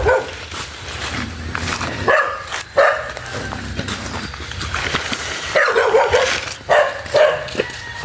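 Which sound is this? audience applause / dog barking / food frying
dog barking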